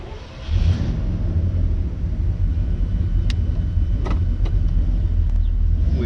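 1971 Oldsmobile Cutlass convertible with a Rocket 350 engine, exhaust burbling in a steady low rumble heard close up, a few faint clicks over it, no talking.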